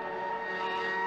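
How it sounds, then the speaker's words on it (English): Game-engine V10 Formula One car in F1 2020, a steady high-pitched droning whine with tonal harmonics that holds a constant pitch, sounding moderately distant and alone with no voices. "I think it might be the V10 engine"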